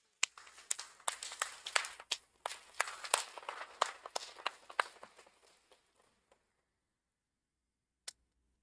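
Conference audience applause, a scattered burst of hand claps that builds briefly, thins out over several seconds and dies into silence, with one last lone clap near the end.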